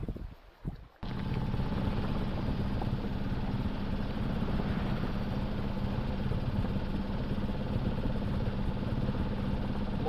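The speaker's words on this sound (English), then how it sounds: "Motoring the last 20 miles or 30 to Darwin, no wind." Steady, continuous drone of a sailboat's inboard engine motoring in calm, windless conditions on the Arafura Sea toward Darwin, close and constant after a brief opening second, with no talk.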